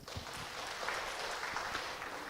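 A church congregation claps during a sermon, a brief, fairly quiet burst of many hands applauding together with a few louder individual claps.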